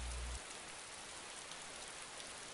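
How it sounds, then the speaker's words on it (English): Steady rain in the video game DayZ makes an even, continuous hiss of drops on surfaces, fairly faint and unbroken, after a brief low hum at the start. "It's raining."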